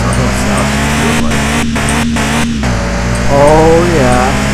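A car engine revs and drones steadily while driving in a car dealer simulation game, the pitch climbing and dipping with gear changes, loud and continuous, with someone talking over it.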